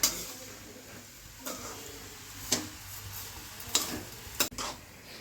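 Mysore pak mixture is stirred in a pan over a high gas flame, with a soft continuous sizzle and five sharp scrapes and clicks of the spoon against the pan.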